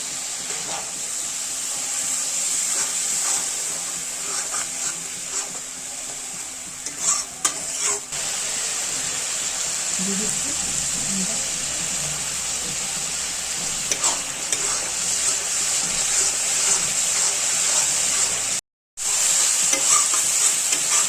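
Tomato paste and spice masala sizzle steadily in hot oil for a katla fish curry, with a continuous close frying hiss and stirring scrapes, briefly cutting out near the end.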